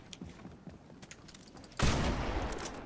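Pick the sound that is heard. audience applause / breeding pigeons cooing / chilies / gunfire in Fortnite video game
gunfire in Fortnite video game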